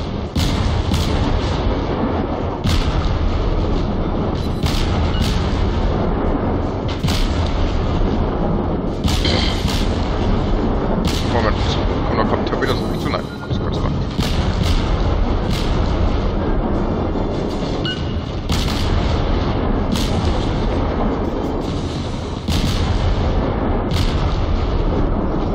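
A World of Warships battle, with 150 mm naval guns firing broadsides: loud, repeated booming salvos arrive every few seconds over a constant dense roar of engine and sea noise.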